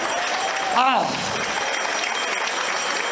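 Wedding guests applauding the fathers after their speeches, a steady wash of dense clapping that fills the room throughout, with a short vocal exclamation rising over it near the start.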